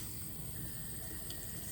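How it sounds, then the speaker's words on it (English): Water runs from a tap into a sink for handwashing, a faint, steady hiss with no talk over it. "We're gonna turn on the water again"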